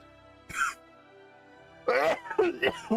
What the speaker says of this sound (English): That was a cough that just kind of came out of nowhere.